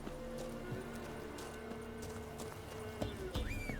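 Roach, a horse in The Witcher 3, gallops with steady clip-clopping hoofbeats and a brief whinny near the end, set against continuous game ambience.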